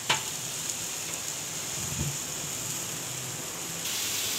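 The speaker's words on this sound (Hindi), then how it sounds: "जब तक ये प्याज फ्राई हो रही है" Sliced onions sizzle in hot oil in a kadhai, a steady hissing crackle that holds throughout, with a brief clatter partway through.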